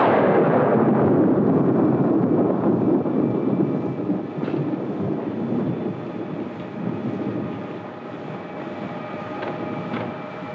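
Deep rolling thunder rumbles through a rainstorm in a 1946 film, loud at first and slowly fading into a softer, sustained rumble with steady rain beneath it.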